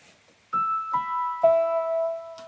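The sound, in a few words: Wurlitzer electric piano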